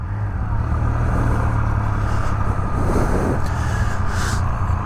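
A Triumph Speed Triple 1200 RS motorcycle engine idles and runs steadily nearby, with a continuous low throbbing drone and a brief swell in intensity near the end, with no talking.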